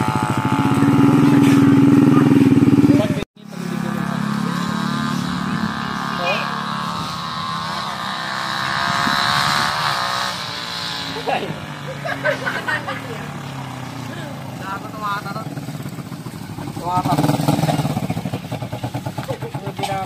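A Honda TMX 125 Alpha motorcycle with an RM Racing open-pipe full exhaust in a pantra set-up runs loud and close, its steady throbbing note briefly cutting out near the start before settling back into an even idle with small revs.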